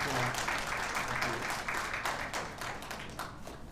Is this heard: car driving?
no